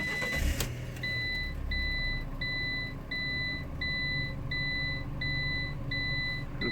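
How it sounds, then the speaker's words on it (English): Faint hum of the hydraulic fluid pump running in a Fiat Punto Dualogic gearbox, heard under a steady row of regular electronic beeps from the car, close and continuous. "I can hear the pump running for the hydraulic fluid"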